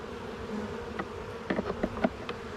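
Soft buzzing of bees, a low hum with several brief louder buzzes as insects pass close, fairly quiet overall.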